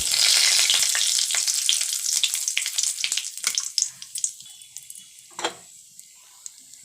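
Loud crackling sizzle as cumin seeds, bay leaves and dried chilies hit hot oil, spitting sharply at first, then settling into quieter scattered pops and fizzes.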